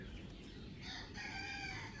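A large local desi rooster crows in a village yard during a rainy day, a steady, moderately loud call over constant background noise.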